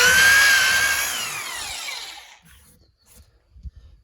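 A power drill bores into green oak wood during a porch build, loud and close with a steady whine that winds down over about two seconds, followed by a few faint knocks as the bit is pulled out.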